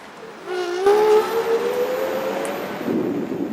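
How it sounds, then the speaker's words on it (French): SPEEDTROTT ST12 electric scooter motor starting, a rising whining tone that climbs in pitch over a few seconds with a steady hum beneath, moderately loud and close, no talking. "le moteur est très bruyant au démarrage"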